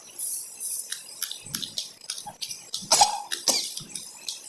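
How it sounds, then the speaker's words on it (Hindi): A run of close, sharp coughs, roughly a dozen short bursts in an uneven rhythm, some with throat-clearing rasps, and no talking. "थोड़ी मुझे खांसी आ चुकी थी"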